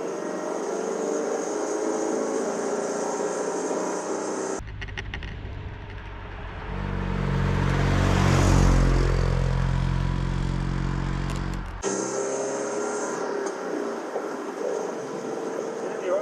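Engine of a 1967 Panhard 24bt with an 850cc motor, heard from inside during a ride, droning and swelling as it revs up and settles back, with recorded sections cut in around it.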